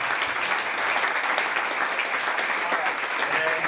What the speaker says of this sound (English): everybody I think deserves a round of applause